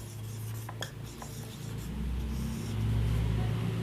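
A teacher writes on a classroom board, leaving short faint scratchy strokes over a quiet low room hum.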